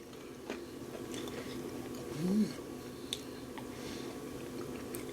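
Close chewing and biting of low carb onion fritters, with one louder crunchy bite midway and soft mouth noises around it over a quiet room.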